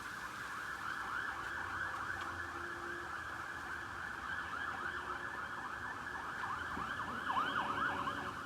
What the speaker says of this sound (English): Some sirens?